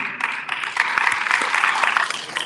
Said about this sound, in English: then we have a round of applause for the lady